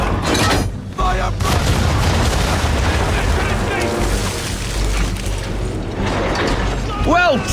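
Ship broadside cannons firing in Assassin's Creed 3, heavy booms and rumbling blasts over creaking mechanical and ambient sea noise, with a whistling projectile sweep near the end.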